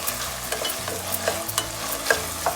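Rice stirred in hot oil for pomegranate pulihora: a close, steady sizzle broken by brisk scraping strokes and light clinks of a spoon against the pan, with no voices.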